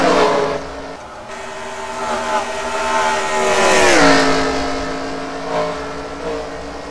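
Race cars in the NASCAR Ignition video game on an ice racing event, a loud continuous engine roar with rising and falling revs as cars pass, steady and close.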